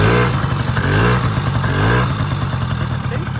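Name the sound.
Honda Melody scooter engine running after starting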